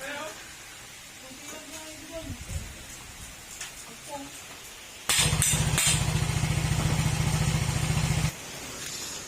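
A Honda Click 125 scooter with a rusted, damaged side bearing runs loud and deep like a big bike, a rough throbbing drone that starts abruptly after a stretch of speech and workshop noise, then cuts off.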